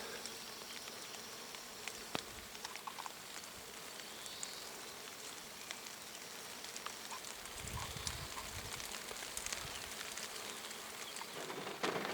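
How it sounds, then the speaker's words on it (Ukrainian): Faint, steady buzzing of a bee over a flowering rapeseed field during rain, the thin drone running unbroken beneath a soft hiss of falling rain, with no voices. "бджола гудить на полі рапсу"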